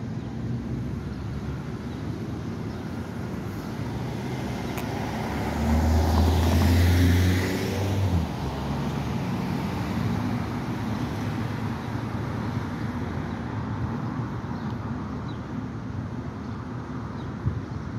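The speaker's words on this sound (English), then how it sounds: "We're just randomly picking intersections of concern and observing the traffic flow and see how things are working." Steady road traffic at a Grove Hall intersection, continuous passing cars with a louder vehicle surging by midway, heavy low rumble and some wind buffeting, no talking.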